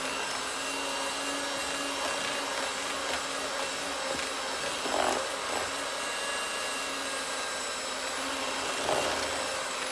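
Electric whisk beating white chocolate macadamia cupcake batter in a bowl, a steady high motor whine with faint scraping bumps, continuous and close with no talking.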